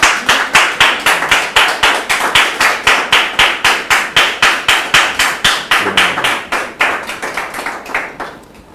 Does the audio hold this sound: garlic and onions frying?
no